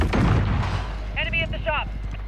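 Frag grenade blast in Call of Duty Modern Warfare during a team deathmatch, a heavy low boom at the start that decays under shouted voices and gunfire.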